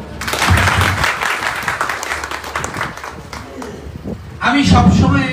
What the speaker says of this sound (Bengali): আমি তাদের জন্য একটা হাততালি।